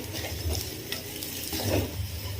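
Turmeric, coriander powder, red chili powder and salt crackle in hot oil in a pan, with a steady close sizzle and light stirring scrapes throughout.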